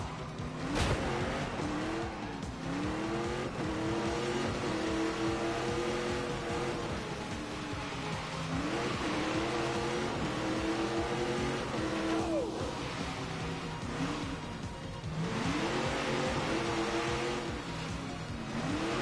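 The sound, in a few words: car driven fast, braking and cornering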